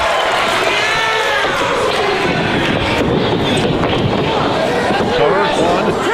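A wrestling crowd in an arena gives a mixed reaction, a dense, steady roar of voices and cheering heard throughout at constant loudness.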